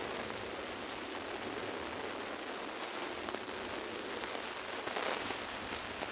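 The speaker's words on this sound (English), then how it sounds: "Unfortunately the hail is starting to come through" Hail falls on a coastal cliff path, making a faint, steady hiss of dense pattering and crackling impacts with no voices.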